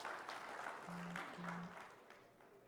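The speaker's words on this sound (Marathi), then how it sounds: "एकदा जोरदार टाळ्या झाल्या पाहिजेत" Applause from an audience at an inaugural ceremony of a credit cooperative society, a steady wash of clapping held at an even level throughout, with no voices over it.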